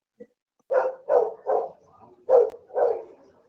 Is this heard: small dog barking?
yes